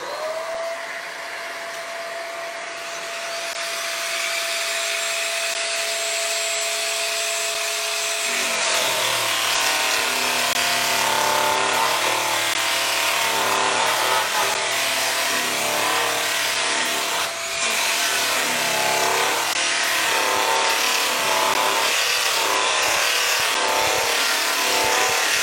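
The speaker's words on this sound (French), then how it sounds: "Là, on est sur une surface plane, donc on va plutôt utiliser une brosse à lamelles." A Peugeot power tool fitted with a flap brush spins up with a rising whine, then grinds steadily and loudly against a flat surface to strip it, a continuous close abrasive roar with no talk.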